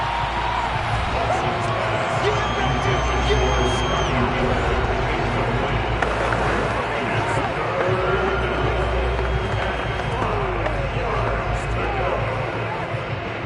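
Football stadium crowd at a Cowboys game, a steady dense roar of cheering and babble that swells as play builds, with a commentator talking over it throughout.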